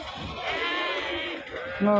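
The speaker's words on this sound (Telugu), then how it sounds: "చూడండి ఎట్లున్నాయి గొర్రెలు బాగున్నాయి" Several sheep bleating over one another at an Anantapur livestock market, with a louder, drawn-out bleat rising near the end against a busy background.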